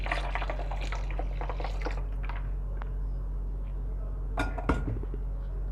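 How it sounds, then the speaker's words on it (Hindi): Blended jaggery sharbat is poured from a blender into a bowl, making faint splashing and dripping sounds with a few soft clinks, over a low background hum. "ब्लेंड किया हुआ शरबत हम एक बाउल में निकाल देंगे।"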